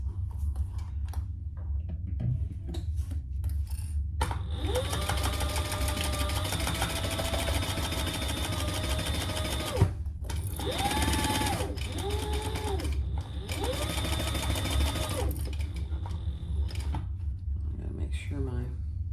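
A sewing machine stitches a zippered bag's seam at full seam allowance in bursts, whirring runs separated by pauses and a steady background hum, with a person speaking between and over the stitching.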